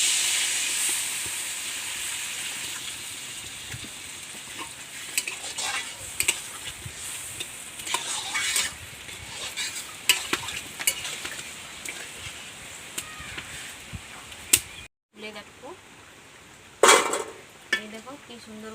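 Spice masala frying in soybean oil for a vegetarian paneer and potato curry, with steady sizzle and hiss and scattered stirring scrapes, a brief break in the sound, then a sharp burst as water hits the hot pan.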